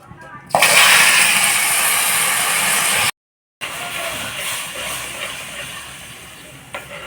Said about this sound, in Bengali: তো এর মধ্যে আমি একটু জল দিয়ে দেব।